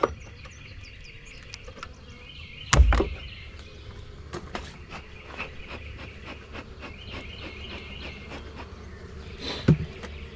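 A steady, busy insect hum of many honeybees in a hive fills the air, with a couple of louder knocks and rustles near the start and end.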